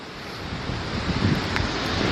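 Strong coastal wind buffets the microphone with a loud, steady roar and gusty rumble near a rocky shore, with no voices.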